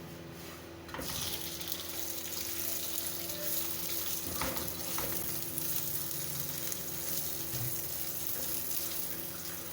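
A radish paratha fries in ghee on a pan over low heat: a sustained, fairly loud sizzle that swells up after a quiet first second and then holds steady with faint crackles.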